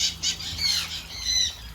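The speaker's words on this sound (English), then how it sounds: "Boy, these birds love me." Parrots squawk loudly and repeatedly at close range in a St. Maarten bird park, harsh shrill calls overlapping in quick bursts with a faint rustle of wings.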